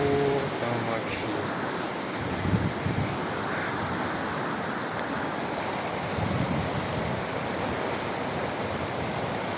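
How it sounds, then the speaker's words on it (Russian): The swollen Uzundzha river after heavy rain roars with a strong current, a loud, steady, broadband rush of water that stays constant throughout and sounds close by. "Тут реально очень течение сильное."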